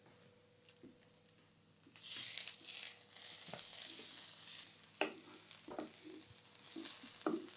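Food sizzles while being fried for sausage rolls, a steady hiss in a pan broken by the scrape and knock of a spoon stirring, close and fairly soft.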